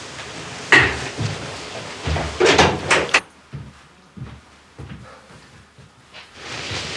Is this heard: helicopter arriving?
no